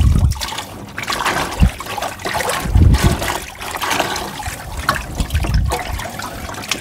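Freshly harvested coffee beans are stirred by hand in a tub of water, making rough sloshing and swishing surges in an uneven rhythm, close and fairly loud.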